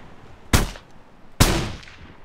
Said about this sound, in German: Ich schieße auf den Schützen.